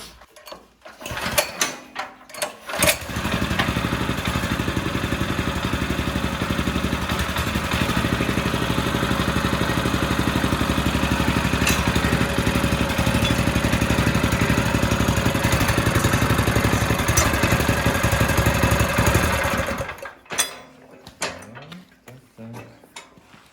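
A DTZ 470 BN walk-behind tractor engine starts after a few clunks and knocks, then chugs steadily and loudly at close range for about seventeen seconds before cutting off.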